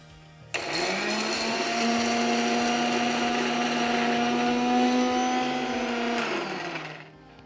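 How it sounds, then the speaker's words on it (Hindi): A countertop blender whirs steadily as it mixes a china clay mixture, starting abruptly, holding a loud, even motor drone for several seconds, then winding down to silence. "And blend."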